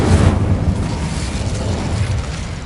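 The Incendio fire spell in the video game Hogwarts Legacy bursts with a loud, deep whoosh at the start, then fades into a roaring, rumbling tail that lingers throughout.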